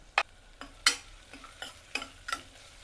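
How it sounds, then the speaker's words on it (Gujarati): Dried fenugreek leaves (kasuri methi) sauté in hot oil for a pea and potato curry. A spoon gives about half a dozen sharp, separate scrapes and clinks against the pan over a faint sizzle. "તેલ ગરમ છે એટલે એક વખત એને સોતરી લેશું આમાં."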